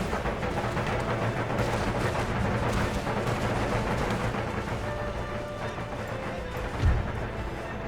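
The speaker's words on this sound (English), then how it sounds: "The Darthmod guy's firing into the melee." Continuous battlefield din from Empire: Total War, with musket volleys and artillery-like booms fired into a melee, a dense rumbling wash of gunfire, clashing and crowd noise with a heavier thump near the end.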